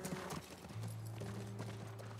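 In the game The Last of Us, a horse's hooves clip-clop at a walking pace, faint and somewhat distant, over a low ambient hum.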